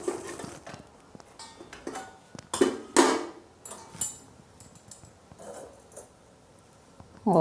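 Clay kulhad cup being turned over on a gas flame, giving a few sharp ceramic clinks and knocks scattered between quieter stretches, close and fairly soft.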